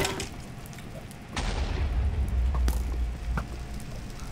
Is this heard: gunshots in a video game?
yes